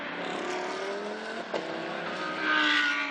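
A Mercedes GT race car accelerating at Zhejiang in a Blancpain GT Series Asia 2017 race, its engine note rising in clear harmonic tones with a brief sharp pop, heard at middle distance without speech.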